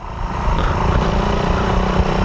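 Close and steady, a Suzuki Raider 150 motorcycle engine runs with a dense harmonic hum that swells slightly partway through.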